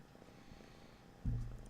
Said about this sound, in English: he purrs really loud